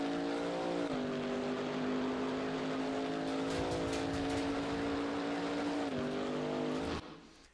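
Chevy Camaro GT4 race car in Assetto Corsa Competizione at Donington Park, its engine note climbing and holding loud and close, with a brief dip near the middle before it fades out at the end.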